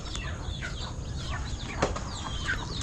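Chickens call and cluck in scattered bursts near and far, with a brief flap or thump midway over a low background rumble, no one speaking.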